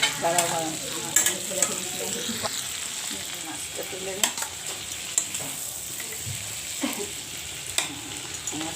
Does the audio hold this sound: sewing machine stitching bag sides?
no